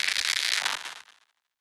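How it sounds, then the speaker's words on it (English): Scream sample heavily corrupted by a vocoder, reduced to a loud harsh crackling, hissing burst that fizzles and trails off into silence after about a second. "I did smash a vocoder on it with those settings, and it sounds like this and completely corrupts it."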